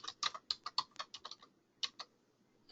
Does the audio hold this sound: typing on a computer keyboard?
yes